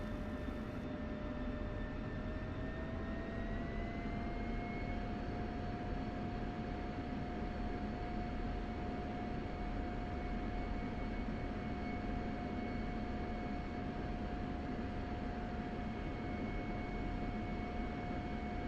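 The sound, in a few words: Spitfire aircraft engine in DCS flight simulator video game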